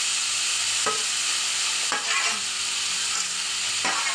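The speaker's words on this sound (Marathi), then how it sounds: "तूप टाकल्यानंतर ते तूप गरम झालं त्याच्यामध्ये आपण बीट टाकून देऊ" Beetroot sizzles in hot ghee with a steady frying hiss, while a few spaced scrapes of a spoon stirring the pan stand out.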